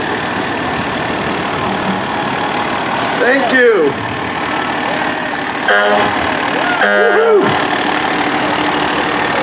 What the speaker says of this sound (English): That truck is super cool.